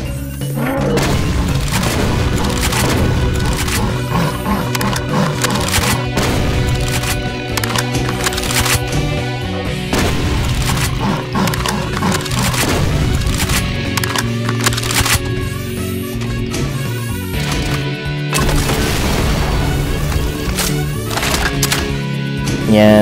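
Exploding fire barrels in Doom 2 with the Project Brutality mod, repeated heavy booms and cracks over dense game music and combat noise, loud and continuous throughout.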